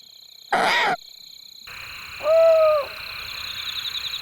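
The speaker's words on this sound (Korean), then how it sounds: "둥지 안에 있던 암컷이 화답한다." A female owl calls back from the nest during the breeding season, a single clear hooting call lasting about half a second, preceded by a brief louder burst and set against a steady high-pitched background hiss.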